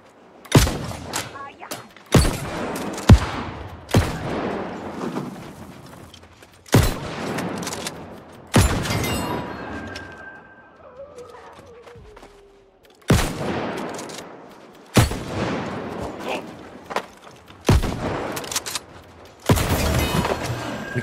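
Gunshots from a gun in New World ring out as single loud, sharp blasts spaced every second or two, each trailing off with a short decay, with a brief quieter gap in between.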